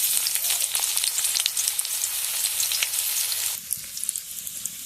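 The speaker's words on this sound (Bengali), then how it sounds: "আগে পেঁয়াজগুলো তেলে ভেজে নেব।" Sliced onions frying in hot oil for a prawn dish give a steady, close, loud sizzle with crackling pops, easing slightly in the last second.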